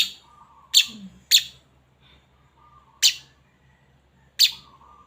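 A baby bird gives four sharp, shrill chirps spaced a second or more apart, close by, with quiet in between.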